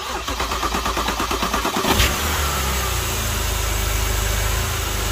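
A BMW E90 cranks with rapid rhythmic starter pulses, then catches and settles into a steady, fairly loud idle just after its power steering pump was replaced.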